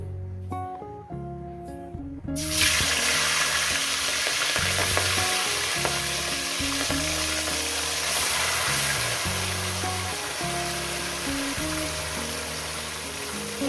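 Katla fish pieces drop into a hot pan of oil and burst into a loud, close sizzle that holds steady and dense after a quieter opening.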